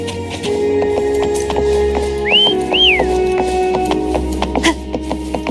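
A character whistles in the video game Wuthering Waves, two short rising-and-falling whistle notes ringing clearly over a steady hum and scattered clicks, with no talk.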